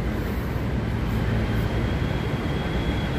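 An underground LRT train runs through a tunnel in Kuala Lumpur, heard from inside as a steady, moderately loud low rumble with a constant roar and no voices.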